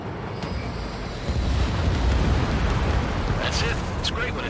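Missile launch and explosion in the Ace Combat 7 flight game: a sustained roaring rumble that swells into a heavy, loud blast-like boom, with a radio voice speaking over it toward the end.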